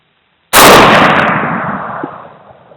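A 6.5 Creedmoor rifle firing a Cutting Edge MTH bullet outdoors, one sharp loud report that hits at once and then rolls into a long fading echo.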